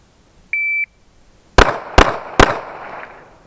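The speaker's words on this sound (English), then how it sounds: "Shooter, punch out and fire three." Three loud pistol shots at a tactical pistol course exam, evenly spaced and close, following a short electronic beep from a shot timer.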